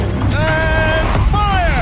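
A turret in Horizon Zero Dawn grinding around on its mount, a loud close mechanical creak and whine with sliding metallic tones over a heavy rumble, lasting under two seconds.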